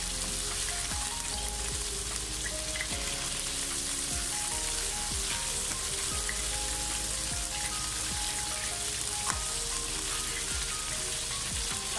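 Raw minced beef kebabs sizzle and fry steadily in oil in a pan, a dense continuous crackle with occasional soft taps from a utensil, close and alone with no talk.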